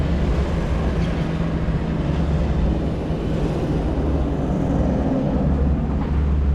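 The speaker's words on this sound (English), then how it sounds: "There we do have Kumba in operation," Kumba steel roller coaster at Busch Gardens running, a loud continuous low rumble and roar from the train on its track, steady throughout with no talking.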